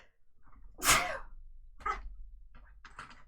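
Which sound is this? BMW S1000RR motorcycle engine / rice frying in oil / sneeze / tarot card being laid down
sneeze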